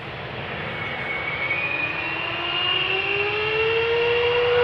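A Boeing 777 jet airliner at Amsterdam Schiphol roars steadily, the whining engine tones sliding slowly downward as the loud, close rumble builds toward the end, with no voices.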